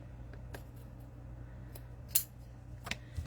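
Scissors snip through lightweight fabric in a few sparse, sharp cuts over a low steady hum, close by, with one crisper snip standing out.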